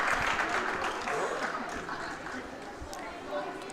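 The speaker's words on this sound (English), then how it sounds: "And Tammy gets a big round of applause" A big round of applause fills a girls' basketball gym during a WIAA game between Auburndale and Stratford, steady clapping with crowd chatter and voices mixed in throughout.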